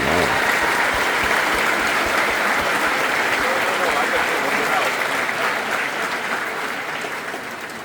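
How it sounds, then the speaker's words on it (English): Sustained applause from a graduation audience at the St. Joseph's College of Maine Class of 2025 ceremony, dense steady clapping from a large crowd that holds strong for most of the stretch and then slowly tapers toward the end. "Please join me in applauding their lifelong work making St. Joseph's College and the world a better place."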